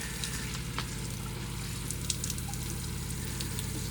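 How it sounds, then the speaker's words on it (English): A camper van's freshwater pump runs during a shower test, a low steady pulsing hum with a watery hiss and spray from the outlet, quiet and continuous. "So that's the noise the pump will make."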